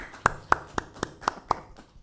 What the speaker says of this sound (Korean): 박수 한번 쳐드려.